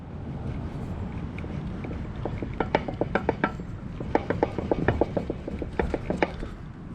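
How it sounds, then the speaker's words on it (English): Ring gear slop in a truck's worn rear differential gives clustered metallic clicks and clunks as the gear is rocked back and forth, close up over a low background rumble. "That's the amount of slop in the ring gear, and that's why we're getting noise."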